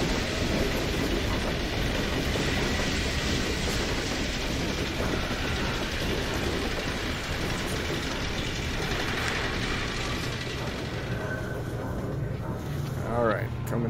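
A train in the video game Half-Life 2 rumbles and rattles continuously through a huge structure, with rhythmic clatter over the rails, a speaking voice running over it and the noise thinning near the end.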